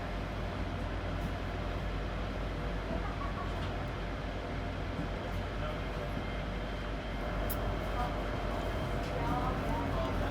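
LNER InterCity 225 train with Mark 4 coaches pulling away slowly, heard from inside as a steady low rumble and hum that swells slightly as it gains speed.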